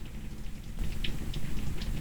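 Rain falls as a steady, close hiss with scattered soft patters of drops on a surface over about two seconds, with no voices.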